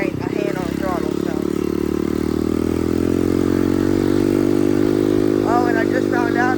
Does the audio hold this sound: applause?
no